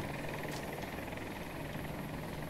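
Helicopter in the video game Battlefield 2042, a steady rotor and engine drone that fills the whole clip at an even level, with no speech over it.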